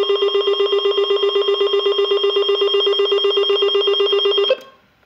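An EAR10WH weather radio sounds its siren alert tone, a loud, steady pulsing electronic warble repeating rapidly for several seconds before cutting off abruptly.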